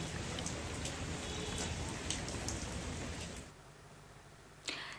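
Heavy rain pours steadily on surfaces during flooding in Kerala, a dense close hiss of drops that drops away sharply after a few seconds, followed by a brief splash near the end.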